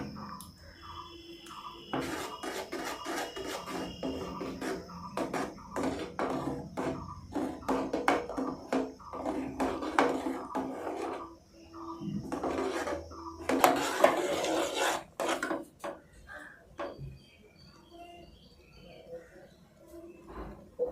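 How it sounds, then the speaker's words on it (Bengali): A spoon scraping and rasping around a bowl while cornflour is stirred into a mango ice cream mixture, irregular strokes close by, with faint birdsong in the background. "এইভাবে নাড়াচাড়া করে কর্ন পাউডারকে খুব সুন্দরভাবে মিশিয়ে নিতে হবে"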